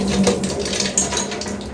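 Water running and splashing as it is drained off soaked green gram in a kitchen while pesarattu batter is being made, a steady close trickle with no talk.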